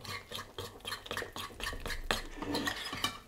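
Yeast being stirred into flour for a heavy, buttery Easter braided yeast bread dough, a run of quiet, rhythmic scraping strokes in a bowl, close up with no voices.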